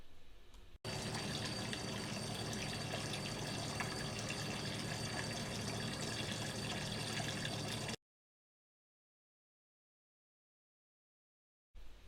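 Steady, loud rush of water flowing through a filter during priming to purge air, continuous for several seconds, then cutting off abruptly into silence before briefly resuming.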